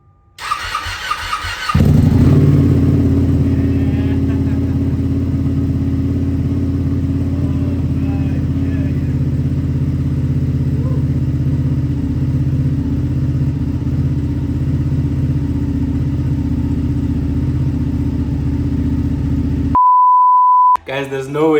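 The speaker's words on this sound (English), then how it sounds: "That full Acro exhaust definitely suits this bike, and it makes it sound so nice and aggressive" Ducati Panigale 959 with a full Akrapovic exhaust cranks and fires up, then settles into a loud, deep, aggressive idle close by, ending in a beep and a short restart.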